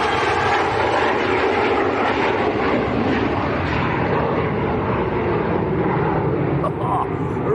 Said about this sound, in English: There we go, a little Embraer.